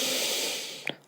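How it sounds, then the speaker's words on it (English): One long, airy in-breath drawn slowly during a guided breathing exercise, close and hissy, fading near the end with a small catch. "Breathing in."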